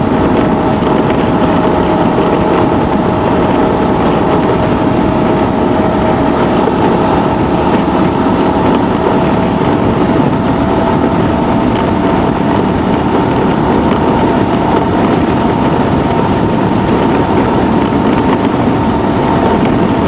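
A 2024 Honda Transalp 750 cruising steadily at speed behind a windscreen, spoiler and deflectors, giving a continuous broadband roar of tire and wind noise with no breaks and no talk.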